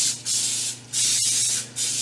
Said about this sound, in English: This butter spray is getting a workout today.